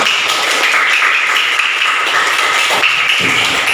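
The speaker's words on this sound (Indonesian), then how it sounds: "Tepuk tangan untuk kita semua" Classroom applause from a group of schoolchildren, a steady dense patter of clapping hands that fills the room evenly from start to finish, with no talking over it.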